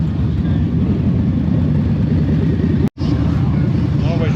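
Motorcycle engines rumble steadily at a bikers' night event, a dense continuous drone close by with a momentary cut partway through and faint voices in the background.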